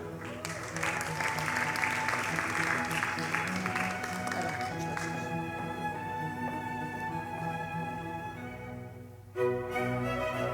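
Audience applause at a winter hotel-school graduation ceremony, steady broadband clapping that runs throughout, fading slightly in the second half with a brief lift near the end, over a sustained musical tone.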